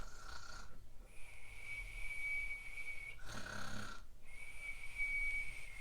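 A voice imitates a gentle snore: two soft, drawn-out breaths with a light whistling tone, separated by a short rasping inhale, quiet and close.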